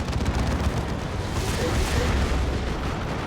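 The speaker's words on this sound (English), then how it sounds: "off-map Demolisher cannon getting fired there" Off-map Demolisher cannon artillery firing in a Warhammer 40,000-style strategy video game, a dense, continuous rumble of booms and explosions at steady loudness with no voices.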